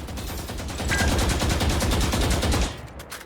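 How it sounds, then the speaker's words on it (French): Sustained automatic gunfire from a full magazine emptied at a target in the Valorant tutorial, a loud rapid even burst of shots lasting about two seconds, then stopping abruptly with a brief tail. "Vide un chargeur complet sur la cible en tirant au jugé."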